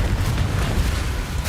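A Confringo fire spell exploding in the Hogwarts Legacy game, a dense, booming blast with a rumbling low roar that fills the short moment without pause.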